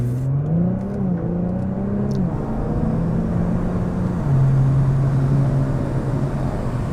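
A Nissan sports car with ATTESA-ETS all-wheel drive launches using launch control, its engine revving and accelerating hard, pitch climbing in steps and then holding a steady high drone, loud and close with no talking.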